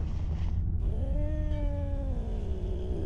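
Cat in the video game Simulacrum letting out a single drawn-out, wavering meow that rises into a caterwaul, close and clear over a low rumbling background.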